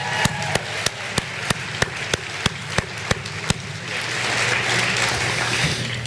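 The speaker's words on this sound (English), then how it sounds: "let's give the Class of 2023 a round of applause" A graduation-ceremony audience at a 2023 senior awards event breaks into applause after a run of sharp, evenly spaced loud knocks, the clapping swelling into a broad sustained patter for the last few seconds.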